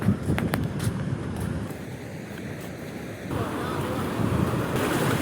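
Overflow water from a dam spills into the sea, making a continuous rushing roar like surf, mixed with gusty wind noise against the microphone. The sound stays fairly even and fills the whole stretch.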